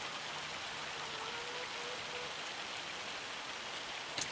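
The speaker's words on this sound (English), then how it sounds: "Here comes some rain." Steady rain pours down in the Farming Simulator video game, a dense, even hiss around a vineyard farm that holds constant throughout, with one brief sharp tap near the end.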